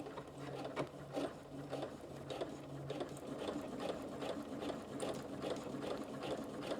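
Sewing machine back stitching over the hem of stretch-fabric fingerless gloves, a quiet, even rapid needle chatter with faint mechanical clicks, continuous and nearby with no speech.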